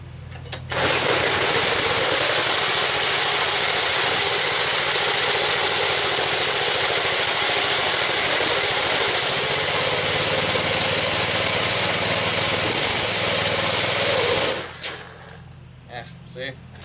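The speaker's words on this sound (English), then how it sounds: "Why does the motor die every time I hit the gas?" The motor of a homemade shifter kart runs close and loud with a steady, buzzing drone for around fourteen seconds, then cuts out abruptly and goes quiet.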